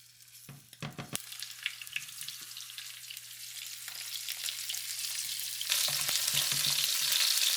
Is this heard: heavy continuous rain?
no